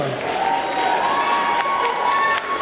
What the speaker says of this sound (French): Donc on les applaudit très très fort et on les libère.